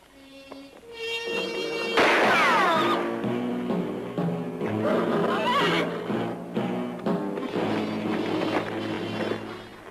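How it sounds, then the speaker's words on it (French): Horses in a western film let out loud whinnies and neighs, several cries rising and falling over a musical score, with faint hoof sounds beneath. "Ils sont en train de voler nos chevaux."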